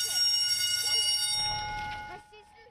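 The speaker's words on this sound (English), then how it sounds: "The bell rang at Colonial Elementary School for the final time." An elementary school bell gives a steady, bright electric ring that holds for about two seconds and then stops, with a voice talking over it.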